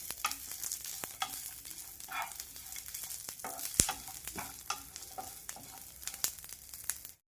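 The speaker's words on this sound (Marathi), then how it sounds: "पुन्हा दोन मिनिट हे भाजून घेऊया" Cumin and chutney ingredients dry-roasting in a pan, a spatula scraping and stirring in frequent quick strokes over a soft sizzle, no voices.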